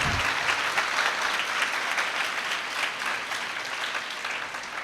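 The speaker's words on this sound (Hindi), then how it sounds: "बड़ी कम आवाज आ रही है आपकी तालियों की।" A church congregation applauds during a Most Holy Trinity Sunday Mass, producing sustained, even clapping from many hands with a slight swell at the start before it settles into a steady patter.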